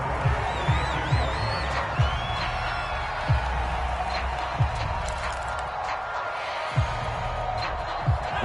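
In the video game Madden NFL, a stadium crowd roars in the background at a steady, broad level. Whistles and whoops rise over it, along with periodic low thumps.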